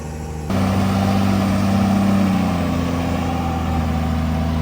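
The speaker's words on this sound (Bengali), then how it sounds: "আইশা ট্রাক 2595 মডেলের এই ট্রাকটি এই মুহূর্তে বোঝাইকৃত বালি নিয়ে ফুল লোডেড এই ট্রাকটি স্মুথলি এখান থেকে চলে যাচ্ছে" A fully loaded Eicher 2595 truck hauling sand at a construction site pulls away, its heavy diesel engine swelling into a loud, steady drone with a droning hum that shifts pitch partway through, close and unaccompanied by voices.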